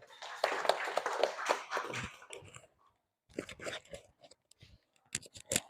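Students in a classroom clapping for a classmate named Dani, a fairly quiet round of hand claps that breaks off briefly, then resumes as sparse scattered claps.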